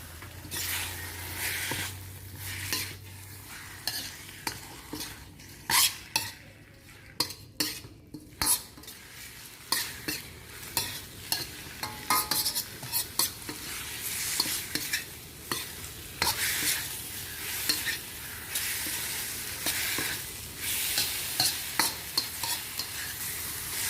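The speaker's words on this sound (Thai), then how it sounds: "แล้วก็ผัดปลาดุกให้พอเนื้อตึงๆซะก่อน" Pieces of catfish are stir-fried in a pan with a steady sizzle. A spatula scrapes and clatters against the metal in irregular strokes, and the scraping is close and fairly loud throughout.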